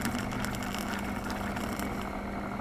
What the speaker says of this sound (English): I use this little whisk thing and some heavy cream. And then I whisk this up.